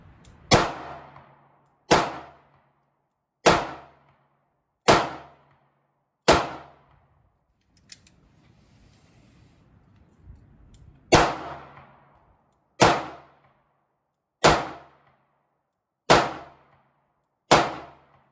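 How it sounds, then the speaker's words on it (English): Smith & Wesson 649 snub nose J frame revolver fired at a shooting range: ten sharp, loud shots in two evenly spaced strings of five, separated by a few seconds of quiet handling noise. "I'm shooting at that top left target."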